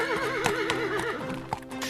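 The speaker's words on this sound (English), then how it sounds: "Sir Raffi on Pooey Poo, the ice horse." A horse whinnies with a long wavering neigh, mixed with a few sharp hoof clops, close and fairly quiet, no talk.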